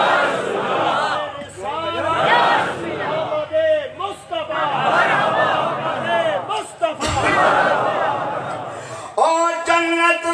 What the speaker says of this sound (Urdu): بلند کر کے نعرے تکبیر